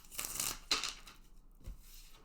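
Tarot cards being shuffled by hand, two or three soft riffling bursts of cards slapping together, close but quiet, followed by a low thump and faint rustle.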